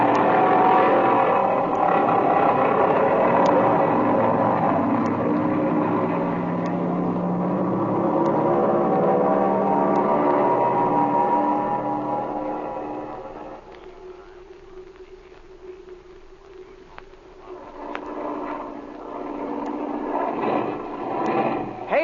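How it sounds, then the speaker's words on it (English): A roaring aircraft engine in a 1937 radio adventure drama drones steadily and loudly, then sputters and drops off as it misses before surging back up, alone without voices. "Hey, this engine's missing, Speed."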